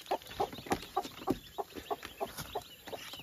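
Newly hatched chicks cheep in a steady run of short, high peeps, fairly close and repeated about three times a second, with no talking.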